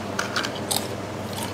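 Crunchy, crispy Chinese snack bitten and chewed close to the mic, with several sharp crackling bites followed by softer chewing crunches, no talking.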